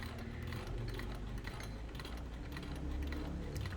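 An antique Singer 15 sewing machine running steadily, a continuous mechanical whir and rapid ratcheting clatter of gears and needle, fairly quiet and close, with no talking.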